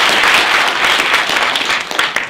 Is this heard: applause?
yes